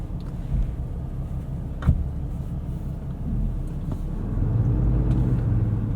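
A 2021 Ram 3500 dually turbo diesel truck drives along with a continuous low rumble, a short knock near two seconds and a deeper engine drone swelling toward the end. No one talks.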